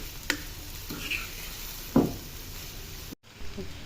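Whole spices and coriander seeds fry in a pot for a beef stew, making a soft, low sizzle with a few scattered stirring taps and clicks. One brief dropout comes near the end.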